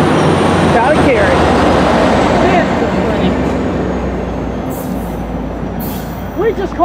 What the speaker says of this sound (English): so I was guessing that was probably 76, Amtrak 76, possibly, heading north